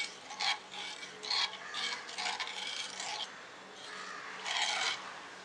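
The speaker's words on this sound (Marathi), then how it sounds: "हे आता आपण छान मिक्स करून घेतलेलं आहे" Drumstick pickle ingredients are stirred together with salt, giving close, scratchy gritty scrapes in uneven strokes of rubbing and grinding, with no talk over them.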